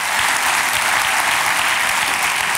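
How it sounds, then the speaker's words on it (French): Dense, even applause from a church congregation praising God, an unbroken wall of clapping at a steady moderate loudness with no speech over it. "Applaudissons le Seigneur."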